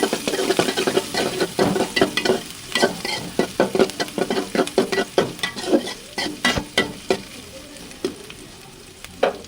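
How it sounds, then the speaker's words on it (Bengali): Vegetable stalks, steamed first, fry in a pan with steady sizzling and repeated stirring clatters that come in close, rhythmic bursts, with no talk. "ডাটাটাকে বসা দেওয়ার জন্য দিয়েছিলাম, ভাজা করে নিচ্ছি"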